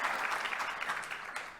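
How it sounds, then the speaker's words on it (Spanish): Audience applause for an engineer's talk on productivity measurement indicators, a dense steady clatter of many hands clapping for the whole stretch, moderately quiet and slightly distant. "volvamos a dar un fuerte aplauso a nuestro expositor"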